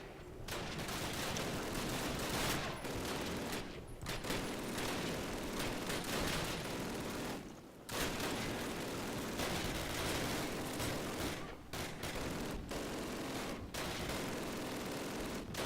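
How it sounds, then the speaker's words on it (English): Sustained squad gunfire in the Call of Duty game, dense overlapping rifle and machine-gun bursts with thuds of heavier fire, loud and continuous throughout with only brief lulls. "Lay down a base of fire."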